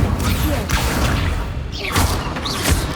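Spell effects in the Hogwarts Legacy video game, a dense stretch of thumps, whooshes and crackling bursts over a steady rumble of game sound, loud and continuous, with faint speech mixed in.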